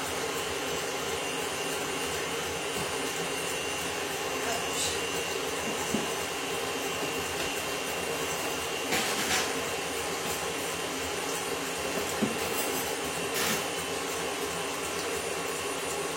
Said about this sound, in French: Donc, mon batteur est là.